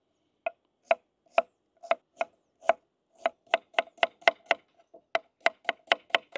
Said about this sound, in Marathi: आपण आता ग्रेव्ही साठी कांदे कट करून घेऊ।